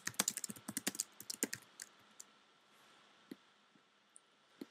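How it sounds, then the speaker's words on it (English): Rapid clicking while working in the Prezi presentation software: a quick run of crisp, close clicks for about two seconds, then a few isolated clicks in quiet, with no talk. "Notice I'm clicking on and off and on and off, and it's not going away."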